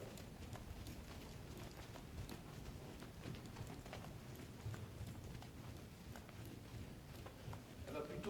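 A mare trotting under a rider in schooling work, steady rhythmic hoofbeats running continuously through the clip against a busy outdoor background, fairly faint and even.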